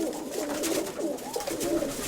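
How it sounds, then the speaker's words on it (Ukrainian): A grey pigeon coos in a steady run of soft, rolling calls, close and clear with no talk over it. "Сірий білохвостий голуб."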